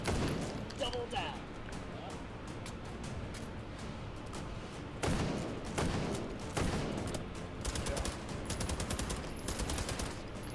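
Rapid Uzi bursts in the VR shooter H3VR, dense automatic fire clattering loudly through most of the stretch with short gaps between volleys.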